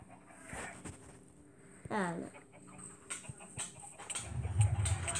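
A chicken clucks in a game soundtrack, with a rising squawk among clicks and background music and effects.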